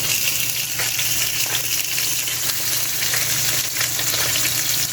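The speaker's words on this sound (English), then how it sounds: "you don't need to fry the spam for too long" Slices of spam fry in a pan with a loud, continuous crackling sizzle and dense popping spatter that holds steady throughout. No voices are heard.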